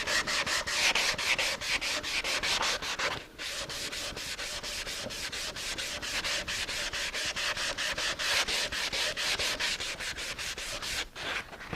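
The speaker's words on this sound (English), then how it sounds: "Again, your cross grain sanding." Steady, rapid back-and-forth cross-grain hand sanding strokes on wood with 320-grit paper, continuous and fairly close, with two brief pauses along the way; no voices.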